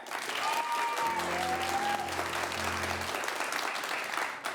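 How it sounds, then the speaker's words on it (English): Audience clapping at an improv comedy show, a loud sustained wash of applause with a few voices and a brief tonal sound over it, fading near the end. "clap for both, but louder for the director that you would like to see continue"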